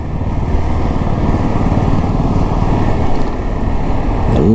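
Motorcycle engines, including a Hero XPulse 200, rumble steadily amid busy road traffic, a dense continuous roar with one bike revving up near the end.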